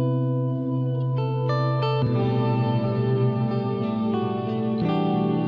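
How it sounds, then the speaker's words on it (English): A lush, long-decay ambient reverb from the EpicClouds VST plugin washes over sustained synth or pad chords, the tones shifting as new notes enter and every change blurring into a continuous shimmering tail with no voices. "Awesome, awesome reverb."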